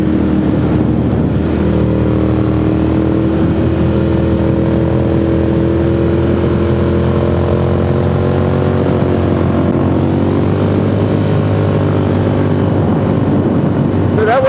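A motorcycle cruises steadily through twisty road sections on Dunlop RoadSport 2 tyres, its engine droning continuously and loudly with wind rush, pitch rising and falling gently through the bends.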